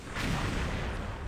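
Grenade blasts and gunfire from a shooting video game set in a mummy-themed stage: a dense, booming burst of explosions and rapid shots heard close and loud, with no voices.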